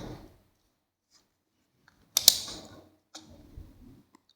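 Ribbon cartridge locks pressed into an Olivetti PR2 Plus printer give one sharp plastic snap, followed by a few softer clicks and rattles in an otherwise quiet room.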